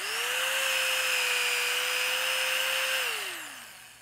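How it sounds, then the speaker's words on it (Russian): A small power drill whirs up to a steady high whine, holds for about three seconds, then spins down as the trigger is released. "Теперь беру сверло и уже делаю нормальное отверстие."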